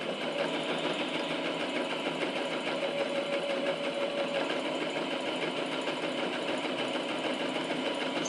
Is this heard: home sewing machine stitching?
yes